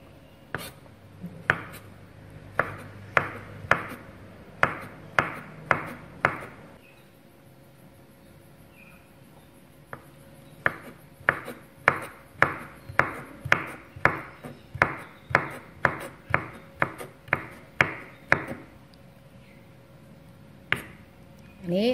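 Knife slicing scraped fresh coconut meat into strips on a cutting board, crisp separate chops in quick rhythmic runs with a pause midway, close and clear against a quiet room.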